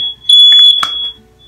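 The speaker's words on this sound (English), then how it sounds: "we've been trying to fix the alarms all day. That was perfect timing." A household smoke alarm gives a sharp, piercing high-pitched beep about a second long, loud and close in a quiet room, followed by a brief faint clatter.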